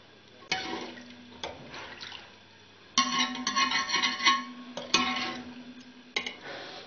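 Water poured from glasses into roasted white chickpeas in a cooking pot, heard in several separate pours with splashing bursts between clicks and knocks, quiet and close.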